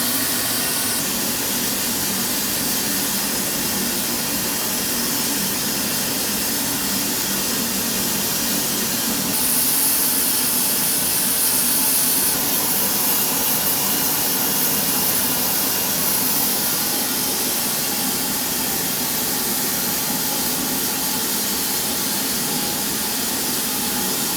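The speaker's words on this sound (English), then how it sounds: "I want to just start up by running the engine kind of slow" An 1890s DeLoach steam engine running slowly at a sawmill gives off a loud, steady hiss and rushing roar with a constant low churn, continuous throughout with no talk.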